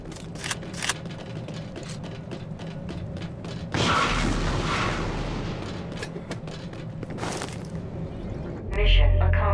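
A deep, booming null cannon blast erupts in Dust 514, destroying a hostile MCC, followed by a sustained rumbling roar, with brief sharp bursts and electronic tones at the end.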